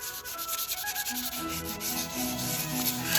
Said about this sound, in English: the whole outer surface would have to be sanded smooth